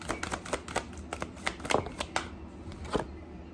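Tarot cards are shuffled up close in a rapid run of crisp flicking riffles that thins out after a couple of seconds, with no talking over it.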